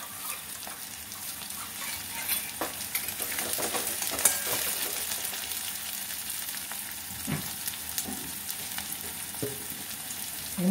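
Spice paste thinned with water frying in a pan for jackfruit kofta curry, a steady close hiss of sizzling with occasional soft stirring scrapes throughout.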